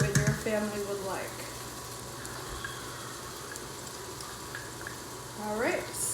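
Garlic sizzles as it hits browning onions and bacon for a corn chowder, a steady close frying hiss with bursts of stirring at the start and end, and a voice talking over it.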